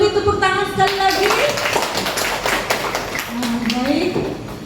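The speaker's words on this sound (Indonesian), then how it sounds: "Kita beri tepuk tangan sekali lagi." Audience applause at a school teachers' community event in Denpasar, a short burst of clapping beneath an amplified voice speaking over a microphone, with the claps loud and close.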